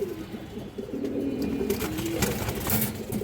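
A female pigeon coos in soft repeated low murmurs, close by, with faint background noise and no voices.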